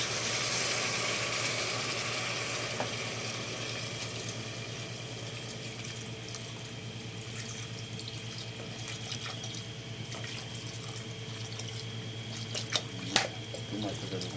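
Tap water runs steadily into a sink for a long stretch in a home kitchen where fish is being cooked with papaya, ending with a few brief clinks and knocks.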